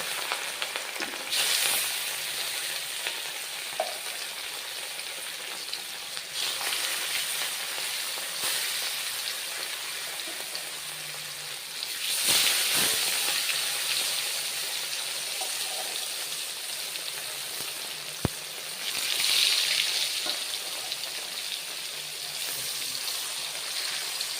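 Salted catla fish pieces fry in hot oil, making a steady loud sizzle that runs throughout with a few scraping and shifting sounds rising at moments.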